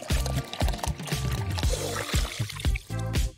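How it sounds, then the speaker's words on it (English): Water poured into a small container for a doll craft, a few short gurgling pours with brief pauses between them, close and clear. "Now we'll fill up a smaller container with water."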